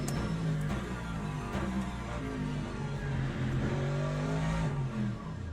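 Race car in the sim game Le Mans Ultimate braking hard, its engine note dropping through downshifts in repeated falling whines, loud and close, with no talk.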